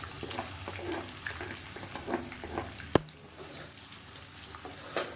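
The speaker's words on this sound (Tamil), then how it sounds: "இப்போ கருவேப்பிலை பொரிய ஆரம்பிக்குது" Curry leaves and sliced onions frying in hot oil for a chicken masala gravy, a steady close crackling sizzle with stirring scrapes and one sharp knock near the middle, no talk.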